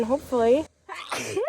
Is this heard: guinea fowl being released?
no